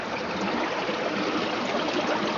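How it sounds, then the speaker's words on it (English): River water rushes and gurgles through subterranean caves at the Warsaw Caves Conservation Area in Ontario. The wash is steady and even and lasts the whole stretch, with no voices. "You can hear the water gurgling in these subterranean caves."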